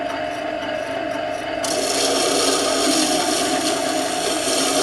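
A chisel being honed on a Scheppach Tiger 2000S wet sharpening wheel, a steady close grinding rasp with a rhythmic back-and-forth rubbing that grows brighter and louder partway through.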